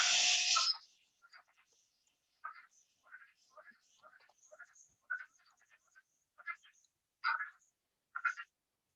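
A recorded call of a small burrowing Ontario frog plays as a short series of soft, squeaky rubbing bursts repeating irregularly, faint and alone after a brief louder noise at the start.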